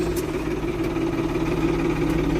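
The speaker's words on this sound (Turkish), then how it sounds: "Arkaya 800 kiloluk ekipman takıyoruz. Yukarı çıkarken zorluyor." Tractor engine labouring under 800 kg of attached equipment while climbing a slope, a steady close mechanical drone with a constant low hum and no pauses.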